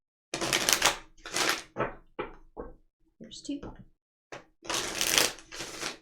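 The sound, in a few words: shuffling tarot cards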